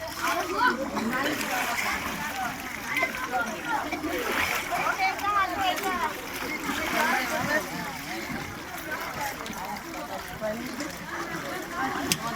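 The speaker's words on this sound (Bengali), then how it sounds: "পুজোর জন্য স্নান করানো। ডুব দাও।" Water splashing and sloshing in the Ganges at Triveni Ghat as a person is bathed and dips for a Neel Puja ritual, a continuous close churn with crowd voices and talk mixed in.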